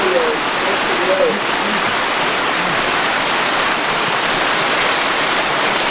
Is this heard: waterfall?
yes